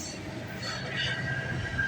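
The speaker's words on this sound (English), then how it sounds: "Let's film the rest of the GO train," A GO Transit commuter train rolls past on the Oakville Subdivision near Burlington West, a steady close rumble of wheels and cars with a faint high wheel squeal running through it.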